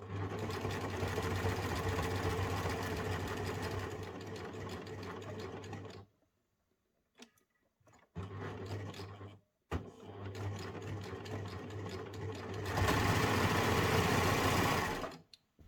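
A sewing machine stitches the neckline of a sweatshirt in fast, even bursts. A long run stops, then a short quiet gap with faint handling follows, and two more runs end in a louder final burst.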